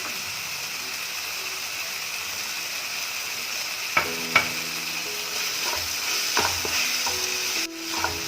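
Coconut and masala sautéing in a pan for crab masala, a steady close frying hiss broken by scattered clinks and scrapes of stirring, with no talk.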